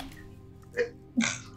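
A faint sneeze in a spoken murder-mystery drama comes as two quick bursts, a small intake and then the louder release, over a low steady hum.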